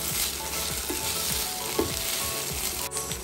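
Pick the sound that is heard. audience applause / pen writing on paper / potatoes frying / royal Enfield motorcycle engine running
potatoes frying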